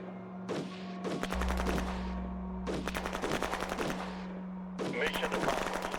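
Gunfire erupts in the strategy war game Shadow Empire, three separate bursts of rapid crackling shots, each a rattling volley over a low steady hum, fairly loud and without talk.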